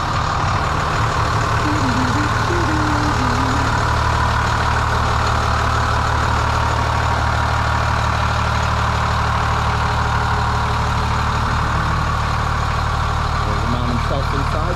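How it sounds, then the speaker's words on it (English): A big overlander truck's heavy diesel engine idles steadily and close by, a deep continuous rumble holding throughout, with people talking over it at times. "Listen to this massive engine taking over."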